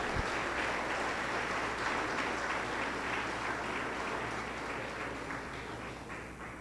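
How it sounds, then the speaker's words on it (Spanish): A church congregation applauds during a sermon, a sustained wash of many hands clapping at moderate distance, gradually fading slightly toward the end. "Un aplauso para el Señor,"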